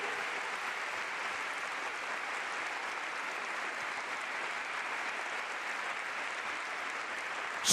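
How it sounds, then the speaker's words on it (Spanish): A church congregation applauding at a sermon, with a dense, even wash of clapping from many hands that holds at a steady level for several seconds, heard from the middle of the room. "dale un aplauso fuerte al Señor"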